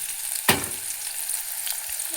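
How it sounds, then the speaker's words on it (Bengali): Onions fry in a pan toward browning, giving a continuous near sizzle broken by one sharp clatter early on and a few light stirring knocks. "পেঁয়াজগুলোকে একটু লাল লাল করে ভেজে নেব"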